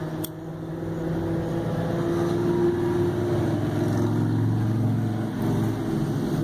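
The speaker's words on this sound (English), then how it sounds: "Have a little motorcycle traffic rolling through today." A steady engine drone from passing motorcycle traffic hums throughout at a constant level, rolling past nearby, with no voices.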